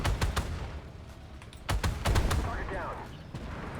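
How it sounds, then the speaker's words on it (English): Gunfire in the Echoes of War video game, several sharp shots in quick clusters over a dense, noisy battle background, fairly loud and close. "I'm shooting 5-10 shots and I cannot hit his head"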